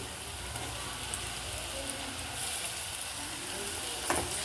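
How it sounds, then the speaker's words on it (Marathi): Chopped tomatoes dropped into hot oil tempered with chillies and curry leaves for Kokani-style sukat: a steady, fairly quiet crackling sizzle with a slight swell partway through and light stirring. "आता आपण टोमॅटो टाकूया"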